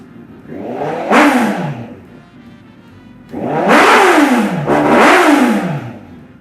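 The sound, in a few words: large motorcycle engine revving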